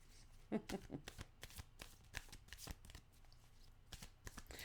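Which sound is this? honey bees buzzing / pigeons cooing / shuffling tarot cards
shuffling tarot cards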